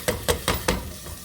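Rinsed rice hitting a hot pan and being stirred into sautéed onions and vegetables, four scraping sizzles at a steady pace, fairly close and moderately loud, with no talk.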